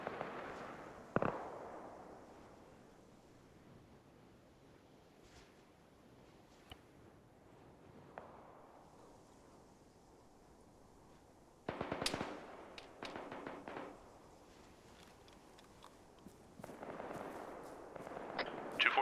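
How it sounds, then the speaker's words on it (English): Gunfire crackles in a military video game, with sparse scattered pops and a couple of louder bursts of shots over low ambient noise, distant and intermittent. "where is that fire coming from?"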